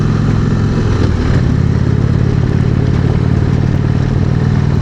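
Indian Springfield motorcycle engine rumbling on a demo ride in Wayne, New Jersey, a loud, continuous, close low drone with steady throttle and no talk over it.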